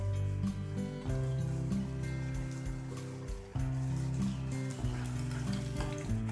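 Chicken tikka crepe cooking in a hot pan, a continuous close sizzle with a low steady hum beneath it and a brief dip partway through, no one speaking.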